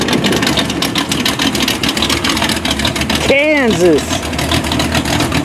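A car engine idles loudly and steadily as the vehicle pulls up, a continuous rumble under people chatting nearby, with a short rising-and-falling tonal whine partway through.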